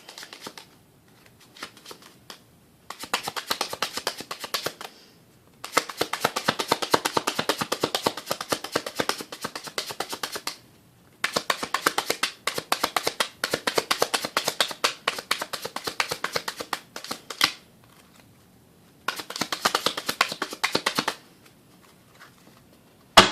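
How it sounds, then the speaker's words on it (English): Cards are shuffled repeatedly in several bursts of rapid riffling and flicking, separated by short pauses, close to the microphone with no talking. "One shuffle, one cut."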